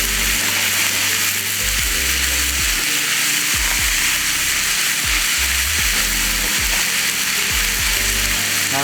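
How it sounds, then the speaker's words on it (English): Onions added to leeks in a pan for creamy polenta fry with a loud, steady, close sizzle, broken by low rhythmic thumps and scrapes from stirring. "And then we're gonna add our onions."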